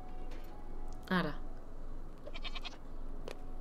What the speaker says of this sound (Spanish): Oveja salvaje.